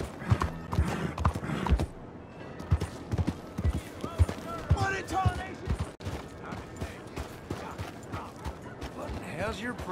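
Horse hooves clip-clop in a quick galloping rhythm in the video game Red Dead Redemption 2, mixed with game voices and scattered ambient sounds at a moderate level.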